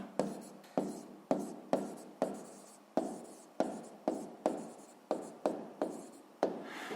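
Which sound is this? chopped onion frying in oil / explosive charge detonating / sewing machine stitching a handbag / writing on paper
writing on paper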